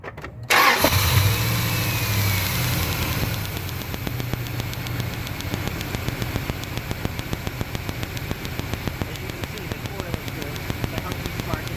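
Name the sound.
car engine starting up during ignition coil test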